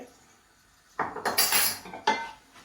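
Green tomato chutney with pickling spices is stirred in a pot: after a quiet start, a spoon scrapes and clanks against the metal in two loud bursts, with a brief rattling clink near the end.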